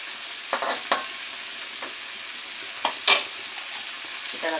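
Shrimp frying in butter with garlic gives a steady sizzle throughout, with a few sharp scrapes and clinks from stirring in the pan, and no talking.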